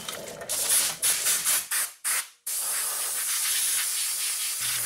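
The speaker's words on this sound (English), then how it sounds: "Now, we'll just hit it with some brake cleaner" Brake cleaner sprays in several short hissing bursts onto the rear brake of a 2006-2011 Honda Civic, then one long steady blast, loud and close.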